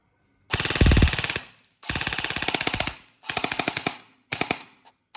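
Four bursts of rapid automatic fire from an E&C 338 electric airsoft gun on a weak battery, each burst sputtering and slowing as it goes, with short pauses between.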